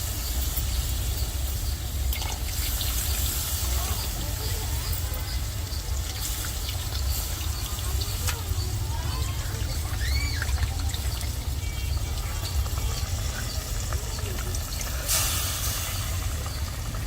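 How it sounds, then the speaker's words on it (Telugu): Tamarind water pours into a simmering fish curry, a continuous close trickle and gurgle of liquid that runs steadily for the whole stretch, with faint drips and no voices over it. "ముందుగా కలిపి పెట్టుకున్న చింతపండు నీళ్ళు అయితే పోసేసుకున్నాం."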